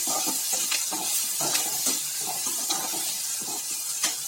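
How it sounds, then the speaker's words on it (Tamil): Curry leaves, onion, tomato and green chili saute in a pan for an eggplant varuval, giving a soft steady sizzle broken by repeated scraping stirs, near and with no talking. "கொஞ்சோண்டு கருவேப்பிலை இது எல்லாத்தையும் சேர்த்தே வதக்கிடலாம். நல்லா வதங்கட்டும்."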